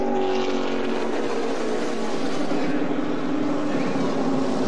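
NASCAR stock cars racing at Daytona during Speedweeks, a dense steady engine roar from a pack of cars at close range, continuous and loud throughout.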